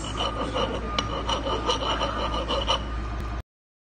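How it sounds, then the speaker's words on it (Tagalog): Metal file rasped back and forth over a metal surface, a close steady scraping with regular strokes that continues for a few seconds and then stops abruptly. "a file tool is used to smooth or shape metal surfaces by rubbing it back and forth like this"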